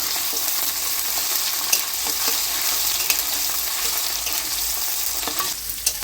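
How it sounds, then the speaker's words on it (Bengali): Onions and tomatoes fry in a pan for a home-style chicken dish, a continuous close sizzle broken by occasional scraping clicks of a spatula stirring, with no talking. "এই দেখুন পেঁয়াজগুলো এবং টমেটোগুলো সুন্দর করে ভাজা হয়ে গেছে।"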